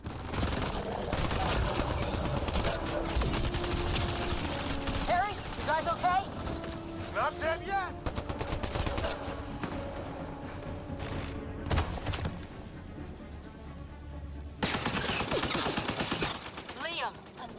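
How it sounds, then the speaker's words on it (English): Sustained gunfire in Mass Effect: Andromeda, dense automatic bursts and sharp shots at close range throughout, with characters' voices calling out between and over the shooting. "Just keep firing, we can do this!"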